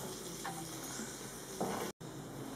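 Skate wing sizzling steadily in a frying pan, a continuous soft frying hiss with small bursts of crackle and one brief drop to silence near the end.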